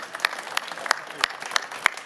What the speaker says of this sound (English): Let's give the panelists a round of applause